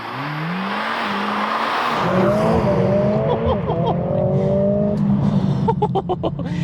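A Mercedes-AMG A45S launching under launch control in Sport Plus, a loud engine rising through quick gear shifts from first to second, with sharp pops and crackles toward the end.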